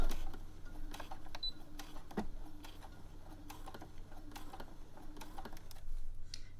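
A sewing machine stitching bias-cut fabric around a tight curve, giving a quiet, rapid mechanical ticking with occasional sharper clicks, close and steady.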